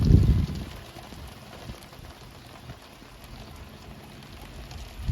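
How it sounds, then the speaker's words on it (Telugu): Heavy rain falls outdoors with a steady, dense patter that fills the whole stretch, opening and ending with a louder nearby thump. "వర్షం పెద్దదైందండి, వర్షం స్టార్ట్ అయింది"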